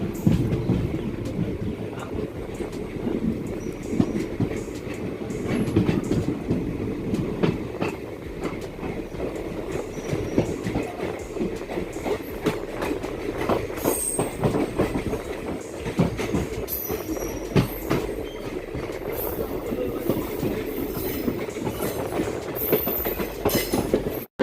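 Guwahati–Ledo Intercity Express pulling out of Simalguri railway station, heard from on board: a steady, loud rumble of wheels on rails with rhythmic clatter throughout and occasional high squeals later on, with nobody speaking.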